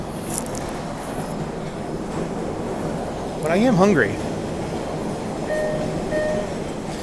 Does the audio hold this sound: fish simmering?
no